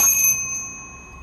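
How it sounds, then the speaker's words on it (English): An antique hand bell rings once loudly, its bright metallic tone sustaining and slowly fading alone, with no talk over it. "here's my antique bell, and my bell works."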